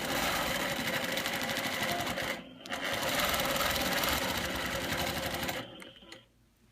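A sewing machine runs a slow, steady zigzag stitch beside a ruler tool, a close rapid needle chatter that stops briefly, starts again and then winds down.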